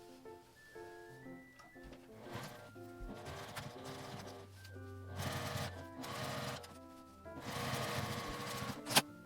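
A sewing machine runs edge stitching along the opening of a small fabric shoulder tote, several bursts of rapid mechanical whirring separated by short pauses and light clicks.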